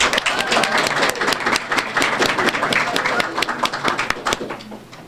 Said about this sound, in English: I know we're clapping a lot today.